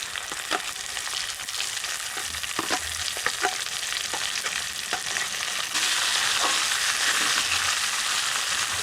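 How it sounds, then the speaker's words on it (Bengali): Fried capsicum stirred with browned onions in hot spiced oil, a steady sizzle broken by sharp spatula scrapes and clicks against the pan, with the frying hiss growing louder toward the end. "ক্যাপসিকামটা দিয়ে একটু নাড়াচাড়া করে নিলাম"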